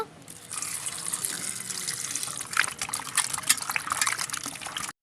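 Cut potatoes being washed under running water in a kitchen sink, a steady splashing faucet stream with brief sloshes and drips of handling, fairly close and continuous for about four seconds.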